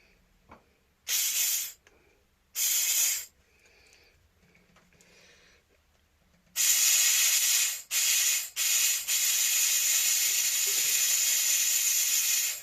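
Compressed air escaping from the bleed valve of a brake caliper on a Honda CB250RS motorcycle, several loud sharp hissing bursts of varying length, the last one long and sustained, close up with no talking.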